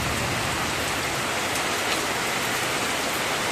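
Steady, dense rain falls outside a house, a continuous even hiss with no pauses and no voices.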